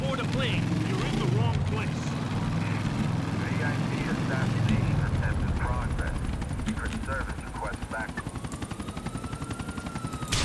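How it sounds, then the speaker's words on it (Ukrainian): A helicopter comes in to land in the video game GTA: The Lost and Damned, its rotor drone running beneath bursts of gunfire and someone talking over the action. "Гелікоптер приземлиться."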